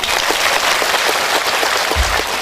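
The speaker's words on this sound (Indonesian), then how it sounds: "Tepuk tangan dulu beliau." Loud, dense applause from a large audience at a Tabligh Akbar religious gathering celebrating the Bhayangkara police anniversary, a steady roar of clapping with a low thump near the end.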